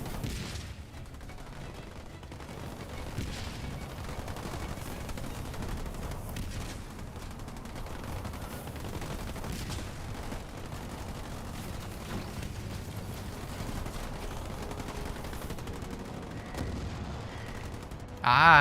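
Constant rattle of gunfire mixed with muffled explosions from scatter bombs in a Halo Wars 2 real-time strategy battle, a dense, steady din at moderate level with no clear pauses.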